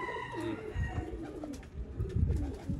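Pigeons coo softly nearby in low, throaty, rolling calls, repeating a few times against quiet background noise.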